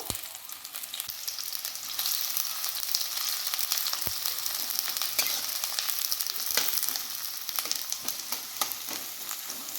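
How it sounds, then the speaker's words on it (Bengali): Onions frying in hot oil in a wok, giving a continuous close sizzle with scattered crackles and occasional soft stirring scrapes throughout. "প্রথমে পেঁয়াজগুলো ভালো করে ভেজে নেব।"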